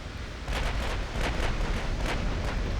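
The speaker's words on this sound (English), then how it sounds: "Full salvo going out." A battleship's full gun salvo booms out in the Ultimate Admiral: Dreadnoughts naval game. Several heavy, rolling blasts follow one another, with a thick low rumble that carries on between them.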